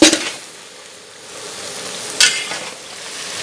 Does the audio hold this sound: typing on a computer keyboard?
no